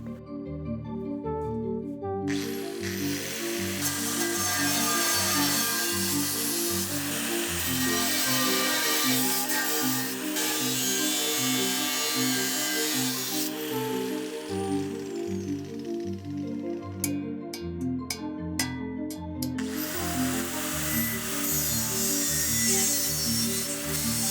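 Power tool cutting a channel into the side of a metal tripod part, a steady loud whine with harmonic tones running continuously and shifting pitch as the cut progresses, with brief breaks near the end.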